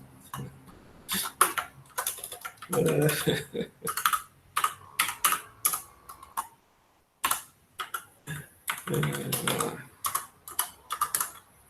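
Someone types one-handed on a computer keyboard, producing irregular clusters of close, crisp key clicks with hesitant gaps and a brief silence midway. A cough or throat clearing may mix in.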